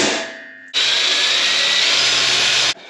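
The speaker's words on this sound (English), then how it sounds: "Now we'll just run a bit all the way through just to make sure everything's lined up" A power drill drives a bit through holes in an old gate, a brief whir, then a steady high-pitched grinding run lasting about two seconds before cutting off abruptly, close and alone.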